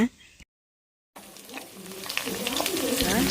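Tomato and garlic sautéing in hot oil give a bright, crackling sizzle that cuts out briefly, then returns and grows louder and busier toward the end, with a voice faintly underneath.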